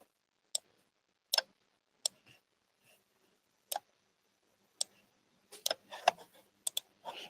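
Computer mouse clicks, sharp and isolated at first, then a quicker cluster of clicks near the end, all fairly quiet and close with no talking.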